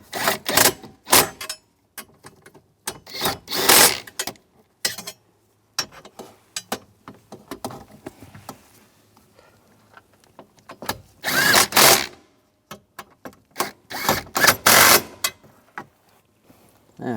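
Ratchet work on nuts at a 2007-2014 Cadillac Escalade steering column: bursts of rapid clicking in short, irregular runs separated by quiet gaps, close and fairly loud.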